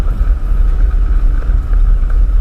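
Cessna 172 light aircraft engine taxiing toward a runway, a steady low droning piston hum with light wind noise, close and continuous, no voices.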